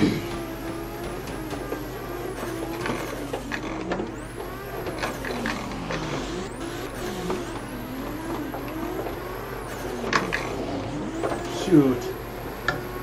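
The engine of a JZX90 drift car in Assetto Corsa revs up and down in repeated swooping sweeps, with sharp bursts and tire noise, while someone talks over the top.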